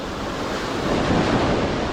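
River water runs strongly after rain at a fishing spot, a loud, steady rushing that continues unbroken and close with no voices.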